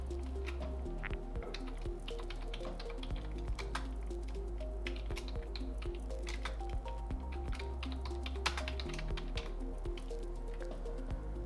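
Someone types on a computer keyboard while editing text in Canva. Quick, light key clicks patter irregularly over a steady low hum, close to the microphone and without talk.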